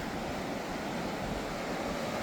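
Monsoon sea waves washing onto an uncrowded beach make a continuous broadband roar with wind buffeting the microphone, steady and loud with no distinct breaks.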